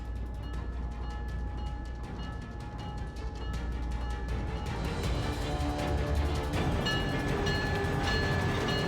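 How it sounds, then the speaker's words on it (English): A train departs in the video game Syberia: The World Before, a steady rumbling roll with rhythmic clatter that builds slightly louder, accompanied by sustained tonal whines and hums, with no talking. "The train for the airport is about to depart."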